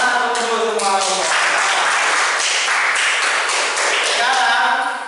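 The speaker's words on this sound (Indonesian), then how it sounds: "Tepuk tangan untuk semua kelompok." Classroom applause from pupils clapping together for every group, a loud burst of claps overlapping with brief children's voices that carries through to the end.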